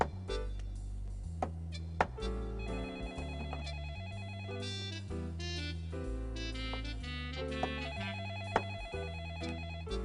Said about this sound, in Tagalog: Tapos sagutin mo yung telepono, ha?